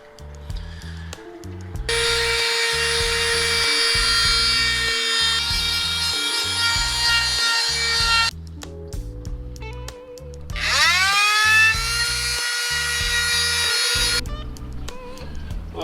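A power sander works on a fiberglass repair aboard a painted trawler, running loud and close in two long passes, the second spinning up after a brief pause.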